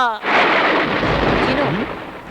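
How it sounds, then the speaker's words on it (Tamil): A broad, heavy roar of thunder with rain outside fills the space, loud and sustained and rumbling throughout, with a brief voice-like sweep partway through. "வெளியில நல்லா மழை பெய்யுது"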